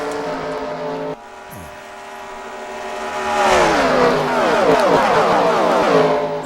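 Race cars in a sim racing game of a Busch Grand National Series event, engines droning loudly and steadily, with a second car's engine rising and overlapping as lapped traffic is caught, revving and blending into a dense roar.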